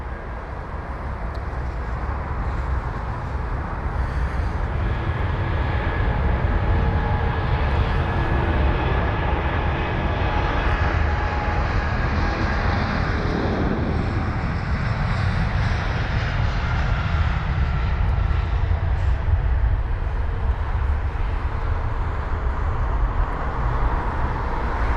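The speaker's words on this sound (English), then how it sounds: "on the runway now is actually a Virgin Atlantic 787-9 Dreamliner heading to Shanghai" A seven-year-old Virgin Atlantic Boeing 787-9 Dreamliner, de-iced, moves along the runway at London Heathrow: a steady, loud jet-engine roar with a broad rushing hiss that holds throughout.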